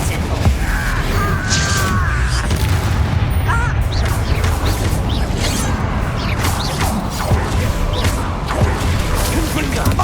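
Repeated Confringo spell blasts go off in the Hogwarts Legacy video game amid a busy combat soundscape, with booms, crackles and impacts layered continuously over a dense rumbling bed, loud and close.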